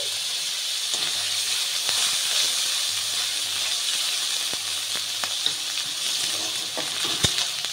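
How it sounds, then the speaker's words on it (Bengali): Onion and garlic paste sizzles steadily in a hot pan, a continuous bright frying hiss with occasional soft clicks of stirring, close and alone without talk. "পেঁয়াজ রসুনটা একটু ভালো করে ভাজা ভাজা করে নেব"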